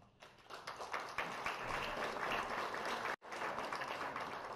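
An audience applauds to welcome a doctor about to speak at a DuPont symposium, dense steady clapping from many hands that breaks off briefly near the end, then resumes.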